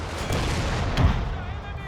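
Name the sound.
gunfire in a video game battle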